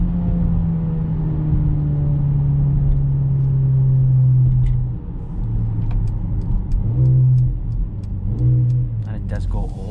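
Inside a 2021 Mercedes-Benz GLB 35 AMG SUV, the engine drone climbs steadily under acceleration, then drops and rises again as the 8-speed automatic shifts through the gears, with steady road rumble beneath.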